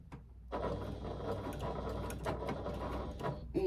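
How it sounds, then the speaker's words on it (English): A sewing machine stitches a fabric panel, starting after a brief quiet with a steady, close mechanical whir and rapid needle clatter that runs continuously with small knocks. "So I'm going to stitch from that 3/8 of an inch mark"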